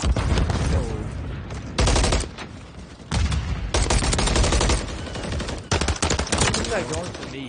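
Rapid bursts of automatic gunfire from a ranked team shooter game, loud and close, coming in several separate clusters with short pauses between them.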